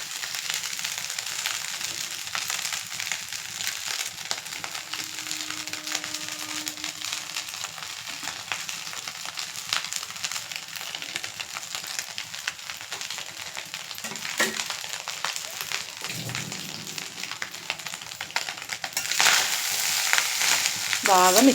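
Fried egg being stirred into egg fried rice in a hot pan, with a steady sizzle and frying hiss throughout, occasional scraping stirs, and louder clattering mixing near the end.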